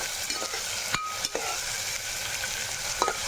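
Onions and green chillies fry in a pan for gongura mutton, with a steady sizzle broken by a few sharp scraping clicks of the spoon stirring, close and moderately loud.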